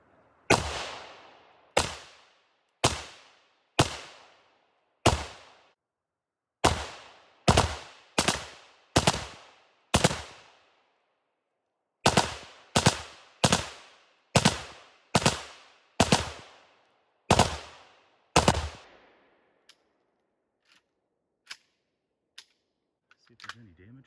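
Gunshots from a Pioneer Arms 556 rifle at a range: about seventeen sharp, loud reports, fired singly at a steady pace in two runs with a short pause between, then a few faint clicks.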